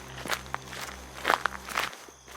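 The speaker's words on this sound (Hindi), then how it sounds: "यह आहट बहुत धीमी और लगातार थी, जैसे कोई उसे धीरे धीरे फॉलो कर रहा हो" Faint, slow footsteps move through a forest, a few soft irregular scuffs and crunches over a low background hum, quiet and somewhat distant, with no speech.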